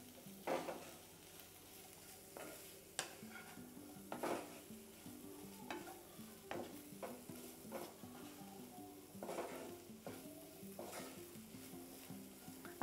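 Mozzarella cheese stirred into a sweetcorn mixture in a pan: repeated close scraping and clinking of a spoon against the pan, with a soft sizzle running underneath throughout.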